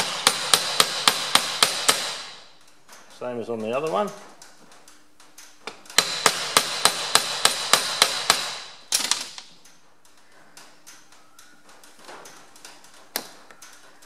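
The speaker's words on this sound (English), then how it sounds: "Give that a little tap, just a little gasket hammer." A small gasket hammer taps on a Ferguson TED20 barn-find tractor in quick, sharp metallic bursts, two long runs of rapid strikes with pauses between, close up, while someone speaks briefly in a gap.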